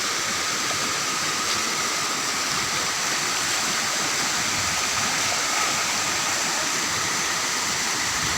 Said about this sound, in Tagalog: Ito yung Lower Baluran Falls